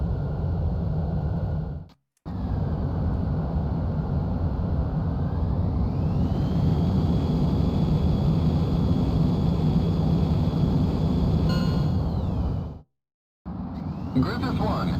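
An F-14 Tomcat jet taking off in Ace Combat X: a steady loud engine roar with a rising whine that swells midway, cut by two brief silences, no voices over it.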